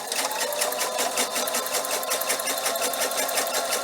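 A sewing machine chain-piecing fabric pieces for a bunny bag, running steadily with a fast, even mechanical stitching rhythm, close and alone.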